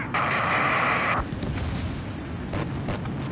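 A missile strikes an aircraft in the Ace Combat 7 video game, with an SU-30 in the dogfight: a loud, bright rushing roar cuts off abruptly, then a low rumbling blast lingers with a few faint pops.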